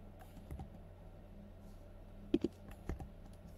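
Computer keyboard keys are pressed for a Command F search shortcut. A few quiet, close clicks sound in a small cluster against a soft room hiss.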